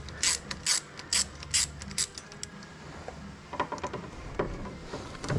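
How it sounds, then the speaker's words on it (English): A ratchet wrench loosens bolts on a Honda CBR motorcycle, giving bursts of rapid close clicking, several quick runs of pawl clicks in a row with brief pauses between them. "I'm also just loosening all these bolts so I don't have to worry about that later"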